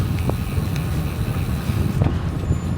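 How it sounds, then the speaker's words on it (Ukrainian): Steady, low rumbling wind buffets the microphone throughout, a dense roar with no voices. "Сьогодні вітер"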